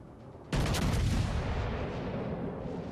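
A single heavy naval gun salvo booms out in World of Warships Legends, a sharp loud blast that rolls into a long rumbling decay, with no talking.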